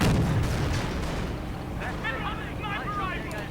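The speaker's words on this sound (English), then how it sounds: "Marder 3 keeps firing." A Marder III tank destroyer firing in a World War II strategy game, a heavy booming cannon shot at the start decaying into rumble, followed by battle noise and a voice commentating.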